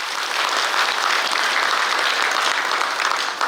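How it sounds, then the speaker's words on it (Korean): Steady, dense applause from an audience honoring dancers at a commemorative ceremony for separated families, loud and continuous throughout without pause. "아름다운 무대를 만들어주신 무용수분들께 다시 한번 뜨거운 박수 부탁드립니다."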